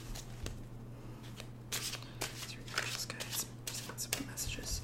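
Tarot cards are shuffled and cut close by, giving quiet, crisp riffling bursts and soft flicks over a low steady hum, with faint murmured speech between them.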